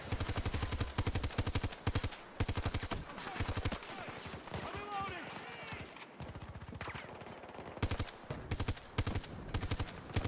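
Automatic weapon fire in a Battlefield video game rattles out in rapid bursts of sharp shots, separated by short pauses and a stretch of quieter game sounds before the firing resumes.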